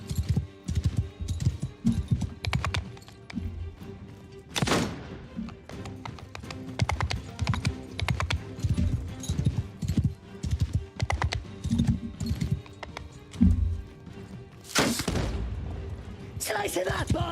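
Horse hooves clip-clopping in the video game Old Realms, a quick, rhythmic run of steady hoofbeats broken by a few sharp gunshot-like cracks, with speech heard in places.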